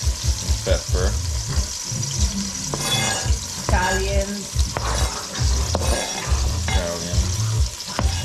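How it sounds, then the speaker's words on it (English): Onion, garlic and pepper sautéing in a pan, with steady sizzling, stirring and scraping clatter throughout and voices talking over it. "Saute some onion, some garlic, pepper,"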